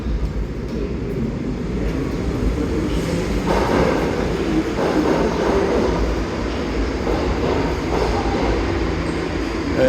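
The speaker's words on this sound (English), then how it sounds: "And here comes the train, so we'll grab it." A New York City subway train arrives at the 33rd Street IRT station with a loud, steady rumble and rattle of cars and wheels, a brief squeal rising as it draws in.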